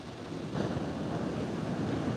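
Broad rushing wash of ocean surf at Huntington Beach Pier at sunrise, swelling slightly midway as a wave comes in, mixed with wind buffeting the microphone.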